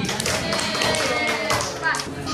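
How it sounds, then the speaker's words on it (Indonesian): A classroom of children clapping together, a dense patter of many hands mixed with young voices and chatter throughout. "Tepuk tangan semuanya"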